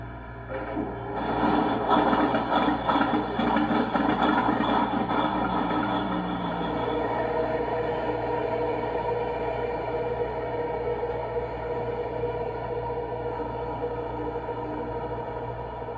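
An LGB 2095 model locomotive fitted with a Zimo sound decoder plays its false-start effect: a rough churning burst swells in after a second, then settles into a steady, droning engine hum that runs on alone.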